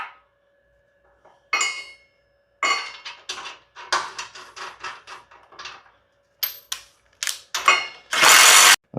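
A power tool tightening a beefier 5/8-head fastener on a car subframe for an LS and Tremec TKX mock-up: short, close bursts of rattling mechanical clatter, separated by silences, ending in one loud sustained burst.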